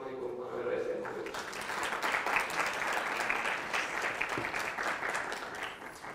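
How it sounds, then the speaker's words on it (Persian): Audience applause at a seminar talk, starting after a brief spoken introduction and swelling into steady, moderately loud clapping from a seated crowd that continues evenly for several seconds. "تشویقشون کنید"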